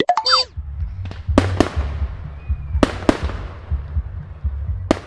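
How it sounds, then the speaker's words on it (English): Cartoon fireworks for Diwali burst in a scattered series of sharp, echoing bangs over a low rumbling background, some distant, a few louder cracks. "Daddy Pig is watching the fireworks."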